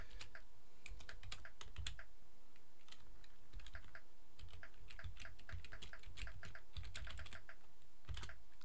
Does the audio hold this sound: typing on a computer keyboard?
yes